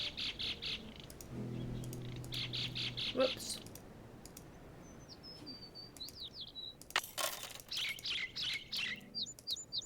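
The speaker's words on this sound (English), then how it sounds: "Those birds are loud." Birds chirp and tweet in bursts in the island setting of the Nancy Drew: Creature of Kapu video game, fairly loud and repeated, mixed with mouse clicks and a brief spoken remark.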